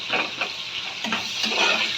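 Two onions sliced into long strips hit hot oil with cinnamon and cardamom in a pan for butter chicken, giving a soft, steady sizzle with brief scraping stirs, quiet and close, with no talk.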